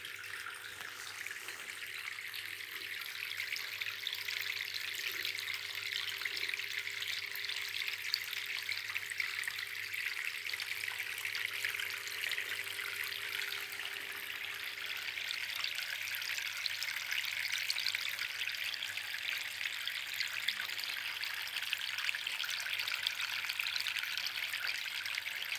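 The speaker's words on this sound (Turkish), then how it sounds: "Bu da bizim bir saksı şelalemiz." Water trickles steadily from a small flowerpot fountain, making a continuous soft splashing and dribbling that stays faint and even throughout, with no voices.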